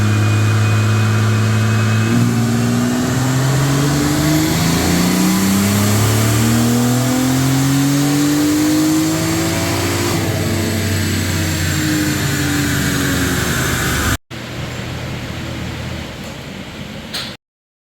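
A BMW 340i fitted with a Dynamic AutoWorks big turbo, tuned on pump gas, revs hard on a dyno: a loud engine note climbing steadily in pitch for many seconds, then a sharp cut and a brief lower roar before it stops.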